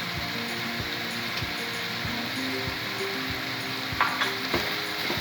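Beef mince with paste sizzles in a pan while being stirred for Kenyan beef samosa filling, a steady close hiss with soft scraping stirs and a few small pops.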